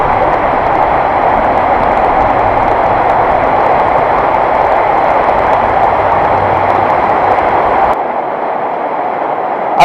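A train rumbles through a Sheffield underground river culvert near platform 5A, a loud, steady, dense roar that holds for several seconds and then eases off slightly.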